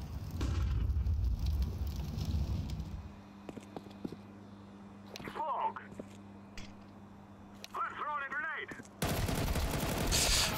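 Bursts of Galil rifle fire in a Counter-Strike Wingman match on the Vertigo map: a loud rattle at the start, then scattered single shots and short bursts at a distance, with a game hum and a voice talking briefly.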